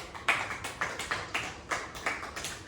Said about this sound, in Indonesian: tepuk tangan untuk Samil.